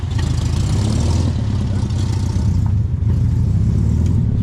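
A 1960s VW Beetle, abandoned for 30 years, runs and creeps along in first gear, its air-cooled engine giving a steady, close, throbbing putter throughout with no talk.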